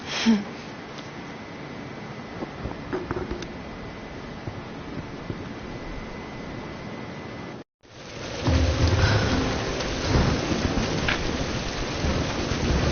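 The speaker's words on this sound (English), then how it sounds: "We're getting closer to the storm." Thunderstorm in Tomb Raider: steady heavy rain hisses throughout, with low rumbling thunder rolling underneath, a brief silent gap, then louder, denser downpour and thunder returning.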